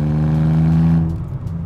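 A BMW E46 330Ci pulls hard out of a corner, its engine holding a loud, steady tone close by before the note drops away and fades near the end.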